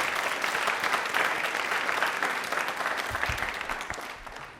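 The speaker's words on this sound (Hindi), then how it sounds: "तालियां एक बार जोरदार हो जाएं।" Hearty applause from a seated audience welcoming a guest onto the stage at a quiz event, a dense continuous clapping that holds steady and then slowly tapers off.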